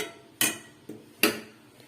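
A metal cooking pot set down on a kitchen stove gives two sharp clanks with a softer knock between them, close and clear with no talking.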